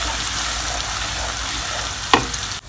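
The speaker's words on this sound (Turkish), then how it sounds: "Buradan bir yemek kaşığı tereyağını da aktardım. Güzelce kavuracağım." Onion sautéing in butter in a pan, a loud continuous close sizzle with a sharp scrape or clatter near the end, no talking.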